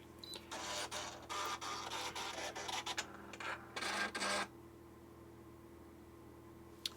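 A serger sewing machine threaded and set to program 18 runs in steady mechanical bursts of rapid stitching, stopping and restarting several times over about four seconds before falling quiet, with no voices.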